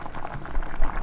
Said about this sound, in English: We cut it into thin slices and now I'm adding it in the gravy.